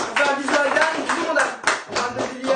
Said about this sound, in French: Bravo, on peut applaudir.